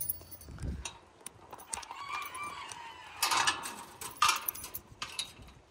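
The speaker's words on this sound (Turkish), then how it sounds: "Şöyle arka kapıyı açalım, horozlarımızı bir salalım." Roosters let out into a backyard, crowing in loud bursts with clucking and scuffling in between, close and clear with no talk over them.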